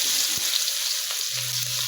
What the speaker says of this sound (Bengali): ভালো করে ভেজে দিতে হবে রসুন আর পেঁয়াজটাকে